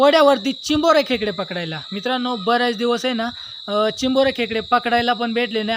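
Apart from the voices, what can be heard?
insects chirping at dusk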